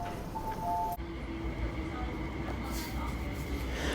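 Interior of a special rush-hour light rail train in Hong Kong heading toward Yuen Long, with a steady low rumble and hum throughout, a brief tonal chime near the start, and a sharp click about a second in.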